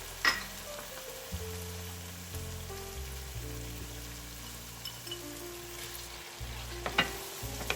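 Pieces of fish sizzle and crackle in a spiced masala cooked down in a pan, while scraping stirs and low tonal background hum continue steadily underneath, close by with no talking.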